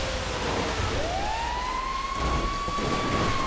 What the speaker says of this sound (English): The mighty fire truck.